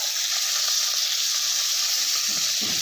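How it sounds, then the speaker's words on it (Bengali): Shrimp seasoned with turmeric and salt sizzling in hot mustard oil in a pan, a steady loud bright hiss throughout with faint bubbling underneath, close up and without voices. "দিয়ে এবার চিংড়ি মাছটা আমি ভেজে নেব"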